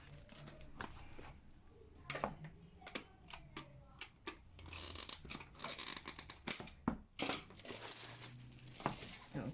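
Diamond painting kit packaging being ripped open by hand, a run of sharp crinkling tears and crackles of plastic and paper with scattered ticking handling noises, close and fairly quiet, no talk.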